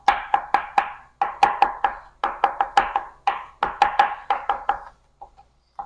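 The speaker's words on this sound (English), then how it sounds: "Just getting that a little bit chopped." Garlic is chopped with a knife on a cutting board in quick, crisp, close taps. The cuts come in bursts of about four to six with brief pauses between them, then fade to a few lighter taps.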